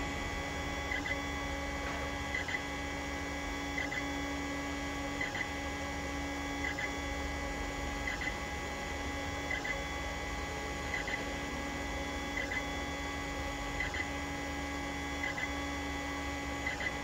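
A Creality Ender 5 Plus 3D printer runs a job with a 0.8mm nozzle, giving a steady whirring hum with faint periodic stepper-motor chirps repeating every second or so, moderately quiet and without any talking.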